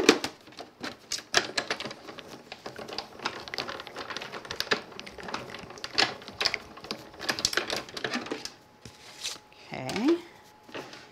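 Card stock being cut with an oval die for a crafted background card, a busy stretch of rapid clicking and mechanical ticking close by, with a person speaking briefly near the end.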